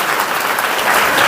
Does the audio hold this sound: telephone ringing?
no